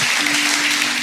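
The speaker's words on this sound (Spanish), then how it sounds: "Dale un fuerte aplauso al Rey de Reyes y Señor de Señores" Church congregation breaking into dense, loud applause that holds steady for a moment, a wash of many hands clapping together indoors, with a faint sustained tone beneath.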